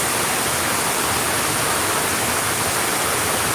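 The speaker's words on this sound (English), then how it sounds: "the river goes all the way down in concrete" A river rushes down a concrete channel in Durham's historic tobacco district, a steady, loud broadband roar of water with no pauses or talk over it.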